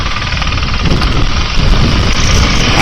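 Honda CRF450RL dirt bike engine running steadily up close, a loud continuous mechanical drone with rough low-end texture and no other sounds.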